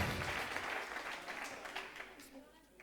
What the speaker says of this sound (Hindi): FRDP के लिए भरपूर तालियां